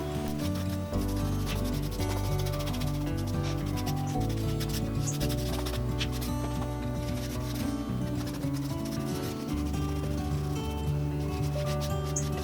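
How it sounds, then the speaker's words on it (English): Light sanding by hand of a painted wooden wine rack and drawer cabinet, a steady, close rubbing and scraping with a faint, continuous background hum. "I did a light sanding just by hand"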